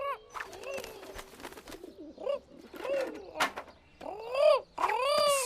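Cartoon pigeons in a garden coo in a series of soft, bubbling calls, some short and some drawn out, close and clear with brief pauses between them.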